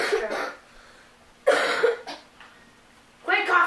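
Coughing from a girl comes in three separate bursts: a harsh cough, then a louder double cough, then a final rough cough after a short pause. It sounds close by in a quiet room.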